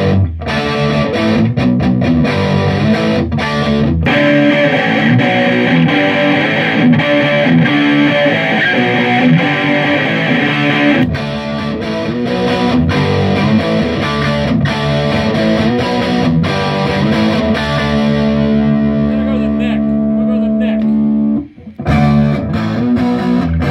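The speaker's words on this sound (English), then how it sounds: "But on just a crunch, here's the Marshall." Electric guitar played through a Marshall DSL 40 amp on its crunch setting, loud and continuous distorted chords and riffs ringing close up, ending with a brief drop out and a final hit, no talking.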